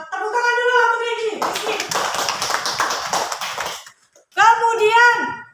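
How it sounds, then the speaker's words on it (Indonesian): A school class claps together for a few seconds, close and lively, between stretches of a voice speaking before and after. "Tepuk tangan dulu untuk Rizky."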